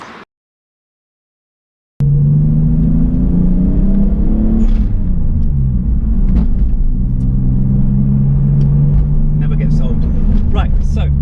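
A Toyota Supra MKIV fitted with an R154 manual gearbox drives along, its engine a loud, close, steady rumble that climbs in pitch, then drops as the gear changes, after a brief silent start.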